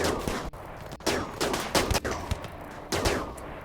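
Rifle gunfire in RimWorld, repeated sharp shots in quick irregular bursts, fairly loud and close, with no talking.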